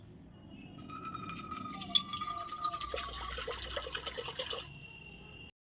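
Water poured into a pot of chopped radish greens set to boil, a steady trickling and splashing fill that builds and runs for several seconds before stopping abruptly.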